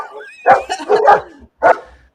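Several dogs bark in short, loud bursts close by: two clustered volleys followed by a single sharp bark after a brief pause, with no talking over them.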